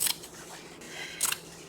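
Scissors cut fabric for a handmade journal cover in two quick, crisp snips about a second apart. The cuts are close and fairly quiet, with soft handling noise between them.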